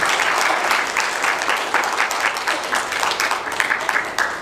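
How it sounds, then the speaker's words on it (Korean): Wedding guests in a convention hall applaud warmly after the marriage declaration, a loud, continuous wash of many hands clapping with slight swells and faint voices mixed in. "큰 박수 부탁드리겠습니다"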